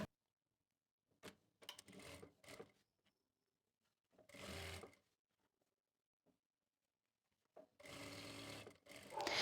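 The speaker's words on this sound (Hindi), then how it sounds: "खोलने के बाद यहाँ से इस तरह से इसको फोल्ड करेंगे और यहाँ पे सिलाई लगा लेंगे।" A sewing machine stitching a Punjabi chakvi salwar runs in several short bursts separated by silence, each a close, mechanical whirring clatter lasting about a second, with fabric handling and faint rustles between runs.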